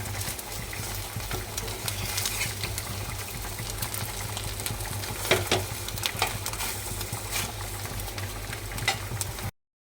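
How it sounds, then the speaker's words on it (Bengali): Eggs fry in a pan with a soft, continuous sizzling hiss and faint bubbling, steady and fairly quiet throughout before cutting off abruptly at the end. "ডিম ভাজা আমার অনেকটাই রেডি"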